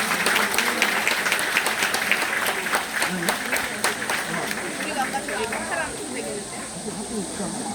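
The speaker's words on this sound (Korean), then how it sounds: "큰 박수로 맞이시면 감사하겠습니다" Applause from an audience at a military training center ceremony for new recruits, steady and fairly loud, with dense crackly clapping that tapers slightly near the end and a voice faintly underneath.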